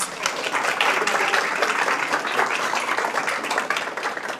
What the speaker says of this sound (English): please join me in applauding the parents and families and students and our MathCon finalists